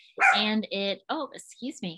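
A dog barks in a few short, loud, close bursts while a person talks over it indoors.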